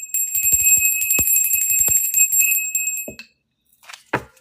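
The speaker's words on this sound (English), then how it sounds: "I need my little bell." A small hand bell rings close and bright for about three seconds in a continuous shimmering jingle, then stops, followed by a couple of faint knocks and rustles.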